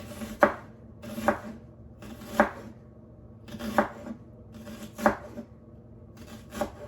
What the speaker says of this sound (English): So we're gonna go ahead and do the entire half of this red onion.